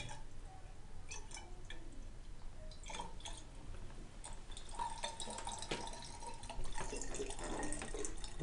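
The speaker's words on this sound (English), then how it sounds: "I'm going to then fill this up to the line with additional water" Water pours into a volumetric flask during a laboratory dilution, filling it toward the line; a faint, steady trickle with scattered small drips and splashes runs throughout.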